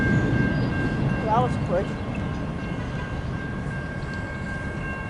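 Norfolk Southern freight train NS 253 rushes past at around 40 miles per hour near a residential street. A loud, continuous rumble fades gradually, with faint tonal horn-like lines, while someone speaks briefly at the start.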